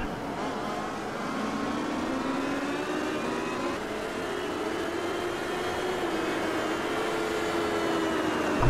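Race car engine in a sim racing game at Infineon raceway, Napa Valley, held at high revs with a sustained, loud whine and gradual pitch sweeps as it accelerates through gears, continuous throughout.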